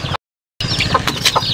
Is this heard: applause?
no